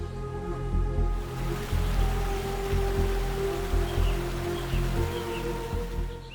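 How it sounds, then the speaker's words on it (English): Rain falls steadily in the Arctic wilderness, a loud, dense patter that continues throughout. Scattered drops tap nearby surfaces, and a low rumbling background stays underneath. "Rain begins to fall more frequently and the air cools."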